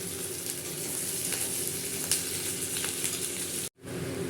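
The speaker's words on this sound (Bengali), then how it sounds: "রসুন আর কাঁচা লঙ্কা ফোড়ন দিয়ে পেঁয়াজটাকে হালকা ভেজে ওর মধ্যে ক্যাপসিকামটা দিয়ে দিচ্ছি।" Onion and capsicum frying with garlic and green chilli in oil, a steady close sizzle with faint stirring scrapes, briefly cut off near the end before resuming, no voices.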